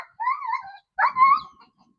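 Two short whining yelps from a dog barking at a chicken, high and nasal, a brief pause between them, close by with no other sound.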